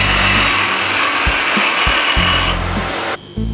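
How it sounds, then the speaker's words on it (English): A spindle gouge cuts and shapes a spinning wooden ring holder on a woodturning lathe, giving a steady loud scraping hiss over the motor's hum, with a few brief knocks and a short dip near the end. "I start to give shape with a spinning gouge."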